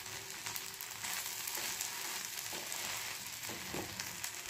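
A bread breakfast mixture sizzles steadily in a pan over a low flame, with soft stirring scrapes breaking through the quiet, even frying hiss.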